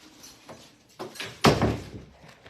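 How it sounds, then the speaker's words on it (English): A door in an animal rescue room swings shut with a brief creak and a solid thump, followed by a short rattling settle, close and fairly loud against quiet room noise. "I'll close this door."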